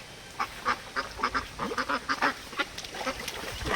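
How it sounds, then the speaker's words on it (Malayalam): Several ducks on a pond covered in green algae near paddy fields at Thasrak quack in quick, uneven bursts, fairly close and loud, with no talking. "താറാവ്"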